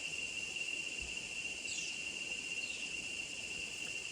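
Orange-collared manakins calling in Costa Rican forest, faint and distant, with a few thin sliding whistles over a steady high insect buzz and hiss.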